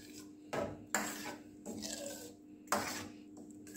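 Andhra poppu charu stirred in a cooking pot: a few scraping, clinking strokes of a spoon against the metal pot, spaced irregularly at close range, with no talk.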